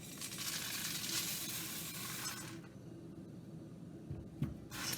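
Cheerios tumble into a pan of nearly melted butter over medium heat, giving a loud, steady sizzling hiss that drops away partway through, then light clinks and a short burst of crackle return near the end.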